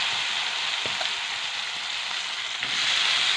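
Bell peppers tossed into a hot pan with chutney, giving a steady, close hiss of frying and sizzling with a few faint stirring clinks, no voices.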